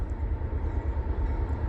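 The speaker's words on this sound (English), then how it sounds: "we have a westbound train coming through right now" A CSX westbound freight train with a single locomotive pulling hopper cars rolls past, a steady dense low rumble and rail noise held evenly throughout, fairly close and without voices.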